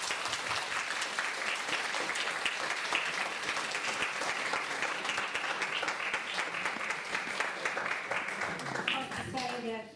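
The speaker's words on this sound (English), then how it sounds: "I think a big round of applause for Paul." Audience applause at a Holocaust child survivor group gathering in Melbourne, steady dense clapping from a crowd lasting the full ten seconds, with a voice briefly audible near the end.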